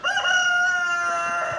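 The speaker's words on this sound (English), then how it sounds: "The chickens." A rooster crows once, a clear, drawn-out cock-a-doodle-doo heard fairly close, standing alone with no talk over it.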